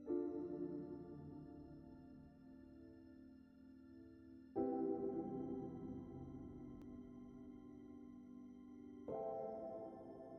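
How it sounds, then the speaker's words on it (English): Jazzy seventh chords layered with organ, sustained and harmonically rich, changing every few seconds in three long held blocks with no drums and no voices. "Then I layered those chords with some organs and it sounds like this."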